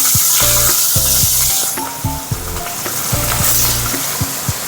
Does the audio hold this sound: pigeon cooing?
no